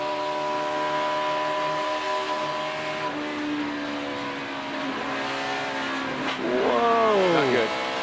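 A NASCAR stock car engine on a qualifying run at Texas holds a steady high drone, then revs up and drops away sharply near the end. Someone talks over the engine throughout.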